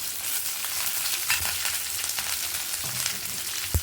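Mustard seeds, chana dal and onion fry in a pan with a close, steady sizzle, broken by a few sharp pops and stirring scrapes.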